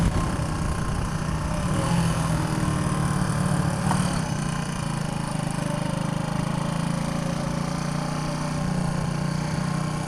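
A 1976 Honda CB125S motorcycle engine idles steadily at close range, a constant low, even putter with no talking.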